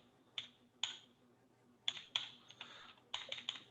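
Several bursts of typing on a computer keyboard while entering metric values for an EIGRP network configuration, crisp clicks in quick clusters separated by short pauses, close and fairly quiet with no talking.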